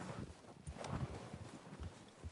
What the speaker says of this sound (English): That horse, Morgan.